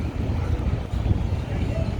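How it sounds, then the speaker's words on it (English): Steady wind gusting through downtown Chicago beside the Chicago River, a continuous low rumbling buffet against the microphone with no quiet gaps. "It's windy."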